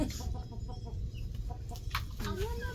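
Soft clucking from chickens close by, with brief chirpy bird calls and low background rumble; no clear talking.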